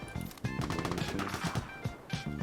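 A light machine gun fires in a looter shooter set in Norway, with rapid repeated shots in a steady stream, loud and close, punctuated by heavier cracks.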